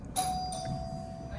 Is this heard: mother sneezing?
no